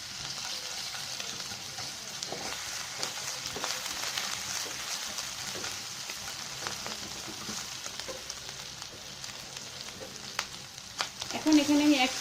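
Onion and garlic paste sizzles and fries in a pan, a steady crackling hiss with occasional stirring scrapes, fairly quiet and continuous, a few louder pops near the end.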